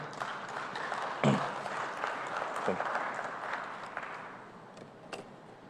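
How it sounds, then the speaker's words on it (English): Audience applause ripples through an agricultural food systems conference hall, a moderate, somewhat uneven patter of clapping with a few sharper bursts, slowly thinning toward the end, with faint voices underneath. "Please give them a round of applause, ladies and gentlemen."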